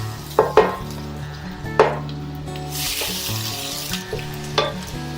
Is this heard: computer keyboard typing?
no